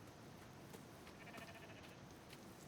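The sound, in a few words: sheep bleating in the video game Rising World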